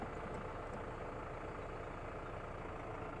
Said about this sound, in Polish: Koszę sobie na 540 eko na ciągniku